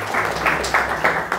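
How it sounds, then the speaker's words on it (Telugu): A church congregation claps together during a Sunday worship service, with steady, roughly rhythmic bursts of applause filling the room at moderate volume. "చప్పట్లు కూడా వినిపించండి. హల్లెలూయా."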